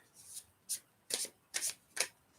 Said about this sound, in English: giving it a good shuffle